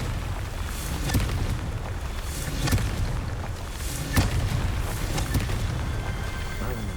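In Hogwarts Legacy, the Confringo fire spell sets off a series of rumbling blasts. Several sharp booming hits punch through a continuous roaring background across the whole stretch, with no speech.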